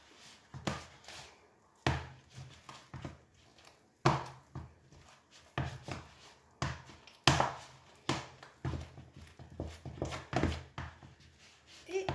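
Churro dough is mixed by hand, making repeated irregular dull thuds and knocks against the bowl, close and fairly quiet, with uneven pauses between strokes.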